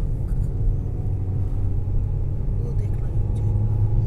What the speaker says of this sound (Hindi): ये जो गाड़ी आ रही है ना ये